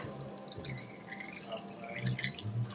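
Bourbon is stirred over ice in an old fashioned glass, giving faint, close tinkling and clinking of ice with soft liquid swirls at low volume.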